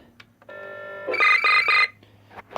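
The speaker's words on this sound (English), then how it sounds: "So the pager's working, and I can hear the phone" A vintage 1988 AT&T HT 5300 cordless phone sounds its pager tone: a steady electronic tone, then a louder warbling ring that pulses three times, close and clear, with no voices.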